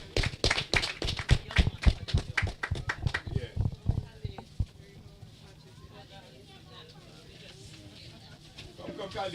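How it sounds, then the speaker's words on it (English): Applause at a community Wi-Fi launch ceremony breaks out as a burst of clapping from a modest crowd, loud at first, then thinning out and fading over several seconds into quieter background noise with faint talk. "Give her another round of applause"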